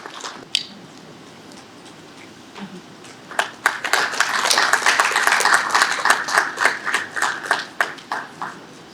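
An audience at a formal launch event for a cervical cancer elimination strategy in Guyana applauds, starting with a few scattered claps, then swelling into sustained clapping before thinning out into sparse final claps.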